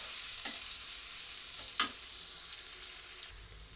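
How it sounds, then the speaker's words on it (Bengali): Onions sizzle in hot oil in a pan for a fish curry with winter vegetables, a steady close frying hiss broken by a couple of sharp spatula scrapes as they are stirred. "পেঁয়াজটা একটু হালকা লাল করে হয়ে আসলে আমি মশলাটা দিয়ে দেব"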